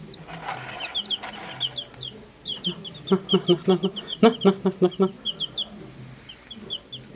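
Several chicks cluck close by in quick bursts, a run of short repeated clucks in the middle, with soft chirps and faint background noise around them.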